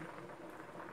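Rice porridge with fish bubbling in a pot, a soft steady simmer of small bursting bubbles, faint and continuous with no voice.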